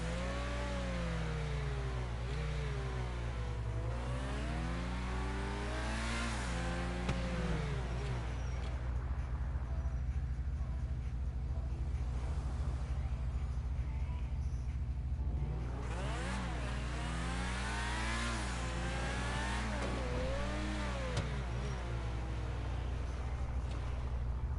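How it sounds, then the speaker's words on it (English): Engine of a Lamborghini Countach rising and falling in pitch as it revs while driving, two long sweeping bursts over a steady low drone, loud and continuous with no voices. "Everybody knows it's the Lamborghini Countach."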